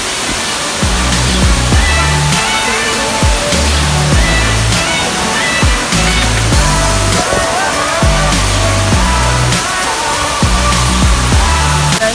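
Waterfall in Fujairah and Khor Fakkan, UAE, heard as a loud, continuous broadband rush of falling water, with rhythmic background music layered over it throughout.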